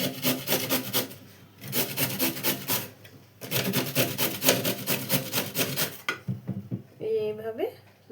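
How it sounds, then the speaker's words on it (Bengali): Radishes are rubbed against a metal grater in fast, rhythmic rasping strokes, loud and close, broken by a brief pause; a voice is heard briefly near the end. "প্রথমে আমি মূলোগুলোকে গ্রেটার দিয়ে ঘষে নেব।"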